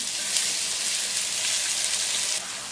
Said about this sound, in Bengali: আদা ও রসুন বাটাটাকে একটু ভেজে নিলাম।